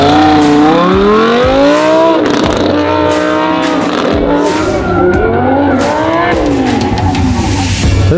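A Lamborghini Huracan race car on an autocross run, its engine loud and close as it revs up and down, with tire squeal rising and falling through the corners.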